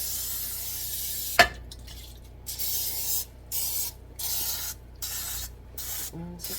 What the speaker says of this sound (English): This is a olive oil spray.